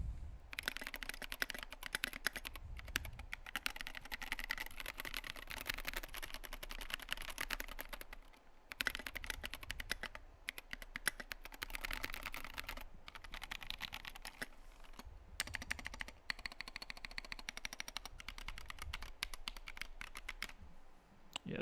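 Steady typing on an ID80 mechanical keyboard with SA Vileboom keycaps and rattly stabilizers, a continuous close stream of clacky keystrokes with brief pauses and a few louder, rattling hits on the larger keys.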